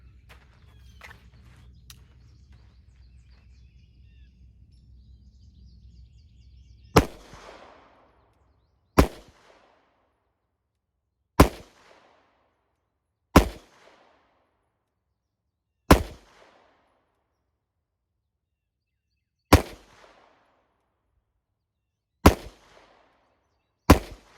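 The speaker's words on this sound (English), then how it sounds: "I'm gonna do 2 5-shot groups." Wilson Combat EDC X-9 pistol fired at an outdoor range at seven yards, eight loud, sharp single shots spaced a couple of seconds apart, each with a short echoing tail, following a quiet low rumble.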